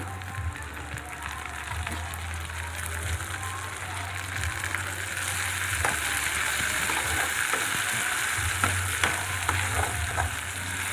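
Tomato pieces fry in a pan for a dried snail and egg curry, giving a constant crackling sizzle that builds slightly louder midway, with scattered clicks of stirring and no voices.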